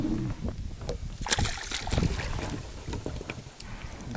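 Wind buffets a small fishing boat on the Psel river during spinning fishing, a steady broadband rush and rumble with gusty swells, close to the microphone, with faint handling knocks.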